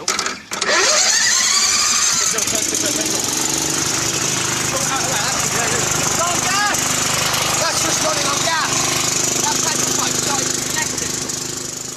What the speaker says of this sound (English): The plan is to start up the mower, then pump methane directly into the engine.